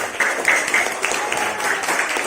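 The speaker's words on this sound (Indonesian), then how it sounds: "tepuk tangan buat Nadine" A short burst of clapping from a small group, brisk and moderately loud, lasting just a couple of seconds.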